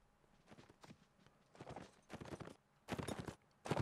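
Horses walk nearby across open fields in Mount and Blade: Napoleonic Wars, their hooves clip-clopping in irregular clustered bursts that grow louder toward the end.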